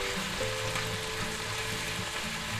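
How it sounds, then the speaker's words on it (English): Minced garlic sizzling in a hot pan with sautéed onions and mushrooms, a dense steady frying hiss under faint stirring, close and continuous with no talk. "take a tablespoon of minced garlic, put that in there. Give it a quick stir."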